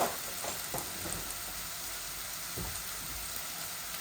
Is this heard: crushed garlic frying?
yes